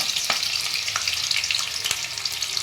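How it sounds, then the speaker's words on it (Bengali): Steady, close sizzling of chopped ginger frying in hot oil, with a few sharp crackles and faint stirring scrapes, no voices. "আদা রসুনটা একটু ভাজা ভাজা হবে"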